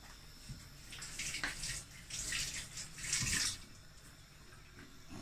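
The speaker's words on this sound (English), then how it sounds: "Alright, so this, I'm going to scrape it. I go wash it." Scraped beetroot is rinsed under a running tap while preparing Jamaican-style beetroot and ginger juice; a steady splash of water rises and falls in a few louder surges, with no talking.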